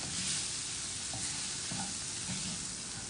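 Poha is stirred in a pan over a steady hiss of frying, with soft, irregular scraping strokes of the spoon close by.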